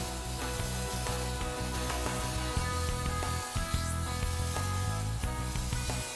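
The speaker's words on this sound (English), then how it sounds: "It's a pressurized fan spray," A pressurized Resist hand fan sprayer hisses steadily while spraying a sandcarving photo mask, with faint clicks and mechanical ticks over a continuous low hum.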